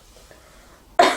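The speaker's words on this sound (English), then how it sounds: "coughing every now and again" A woman with a cold gives one sudden harsh cough close by at the end, after a near-silent lull outdoors.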